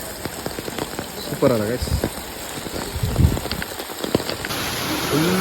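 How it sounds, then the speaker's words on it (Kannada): Rain falling at an outdoor temple during a walk, a steady broadband hiss of drops on surfaces throughout, with people talking over it. "ಮಳೆ ಮಳೆ ಮಳೆ ಬೀಳ್ತೈತಿ."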